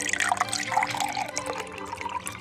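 Water poured into a glass, a close, continuous liquid stream with bright splashing and dripping that fills for a couple of seconds, heard alone.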